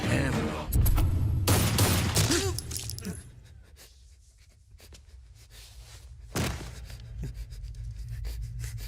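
Bursts of gunfire from a movie scene come as loud cracks clustered in the first few seconds. A quieter stretch follows, then one more sharp blast and scattered clatter. Some voices are heard under the noise.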